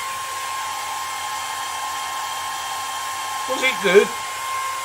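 Morphy Richards hair dryer blowing on paint, a steady constant whir with a high whine running throughout, close by, as a voice speaks briefly near the end.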